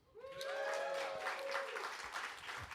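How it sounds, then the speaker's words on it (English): Live audience applauds at a small venue, The Old Hairdressers, a dense burst of clapping that swells quickly and holds steady, with a few whistles and voices mixed in. "can we get a round of applause for Dead End?"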